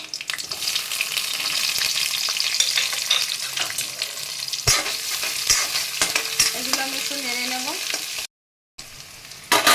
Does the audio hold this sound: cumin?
yes